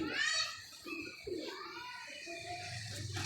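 A pigeon coos softly and close by, in a few low throaty calls, while faint voices talk in the background.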